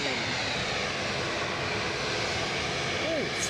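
A Norwegian airliner passes near Edinburgh airport as a continuous broad roar of jet engines, steady and fairly distant, with a faint rising whine near the end.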